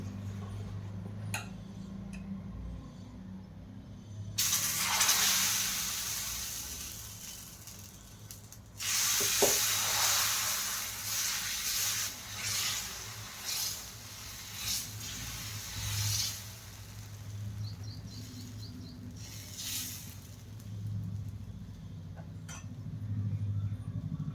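Dosa batter spread on a hot tawa gives a broad hissing sizzle that swells in bursts and fades, with soft scraping ticks between, close and moderately quiet.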